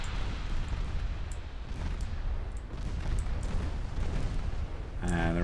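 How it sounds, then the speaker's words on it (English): Torpedoes detonating in a naval strategy game set in an Imperial Austrian campaign, a dense rumbling roar of explosions that fills the whole stretch, with sharp crackling bursts layered over a constant low boom. "the last of her torps. Two of which prematurely detonate."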